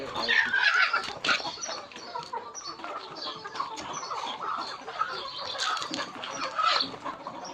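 Chickens cluck and squawk in a busy jumble close by, mixed with people chatting in the background.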